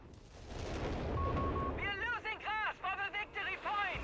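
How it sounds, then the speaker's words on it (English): Machine gun fire from a World War II real-time strategy match between German and British armies, heard as dense crackling battle noise, with chirping unit voice lines and tonal effects layered over it in the second half. "Latouff's having fun, spamming 4 cloaked machine guns over here."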